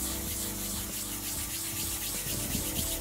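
Verdigris wax being buffed over sealed wood, giving a continuous, close, hissing rub with a steady back-and-forth texture and no speech.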